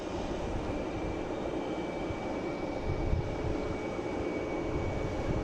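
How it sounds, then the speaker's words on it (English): A Japan Airlines jet arriving from Tokyo Narita into Boston Logan airport makes a steady, distant engine roar and rumble with a faint high whine, holding even throughout with no voices heard. "There you go, Japan Airlines on the way in, coming in from Tokyo, Narita."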